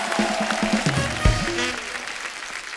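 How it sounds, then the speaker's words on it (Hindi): Studio audience on a comedy talk show breaking into applause, loud and close, mixed with cheers and music stings, the clapping swelling and then easing off. "जोरदार तालियां"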